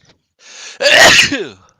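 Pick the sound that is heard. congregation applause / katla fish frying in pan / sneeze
sneeze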